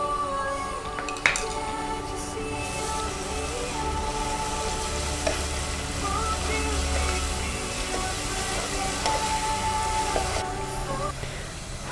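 Cumin and garlic paste frying in oil for a spinach egg curry, a steady close sizzle with occasional stirring clinks from the pan.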